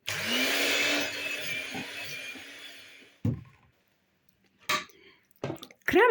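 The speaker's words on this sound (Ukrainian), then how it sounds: "І продовжую збивати до однорідності" An electric mixer whips a buttery cream mixture for an anthill cake, its whir steady for about three seconds before stopping, followed by a few scattered clatters and knocks.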